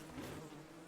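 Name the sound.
bees buzzing in the video game Don't Starve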